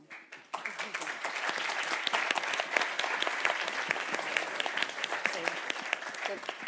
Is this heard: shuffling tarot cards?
no